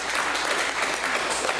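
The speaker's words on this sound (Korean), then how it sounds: "야 우리 박수 한번 부탁" Applause from a church congregation during a Korean sermon, a dense steady patter of many hands clapping for about two seconds, close and fairly loud.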